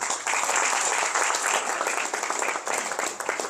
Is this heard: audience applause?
yes